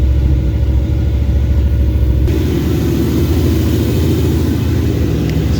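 A Mercedes M113 5-litre V8 swapped into a Ford Capri idles a little fast, a steady close, loud low rumble that thickens slightly partway through with no pauses.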